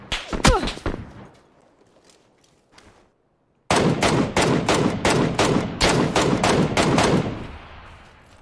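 Gunfire in PUBG: a few sharp shots and a lull, then a loud, unbroken run of rapid automatic bursts close by.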